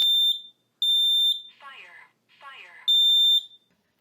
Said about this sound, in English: followed by the wail of the smoke alarm